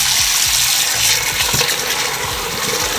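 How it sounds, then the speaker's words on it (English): Cold water pours from close by into a pot of washed rice, a loud continuous splashing gush with bubbling and light knocks throughout. "I'm gonna pour some water in again"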